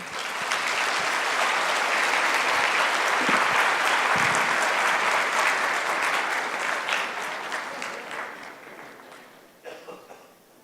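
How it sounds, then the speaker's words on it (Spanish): A lecture audience gives a long round of applause at the end of a keynote talk, dense and steady clapping from a crowded hall that gradually thins and fades into scattered final claps. "realmente creo que se merece otro aplauso"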